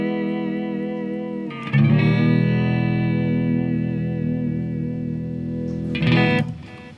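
An electric guitar chord rings out through a Hughes & Kettner Black Spirit 200 floor amp, drenched in reverb and delay, sustaining long with a second strum near the end.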